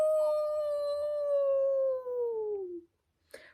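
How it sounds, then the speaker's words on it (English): A single long wolf howl holds a steady, drawn-out tone before sliding down and fading, followed after a short silence by a brief breathy sound. "Drowsily, Laura heard a long wolf howl."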